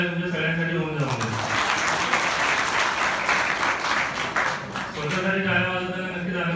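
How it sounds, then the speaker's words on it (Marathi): An audience at an industry-academia conclave at an institute of technology in Sangli breaks into loud, sustained applause for several seconds, with someone speaking over the microphone before and after it. "एकदा जोरदार टाळ्या तुमच्या सगळ्यांसाठी होऊन जाऊ"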